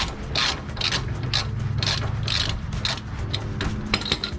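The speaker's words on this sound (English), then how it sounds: "We'll use the ratchet to finish them out." Close-up ratchet clicking steadily while tightening sway bar bushing bolts under a 1997-2004 Dodge Dakota, a continuous run of quick metallic ticks with no talk.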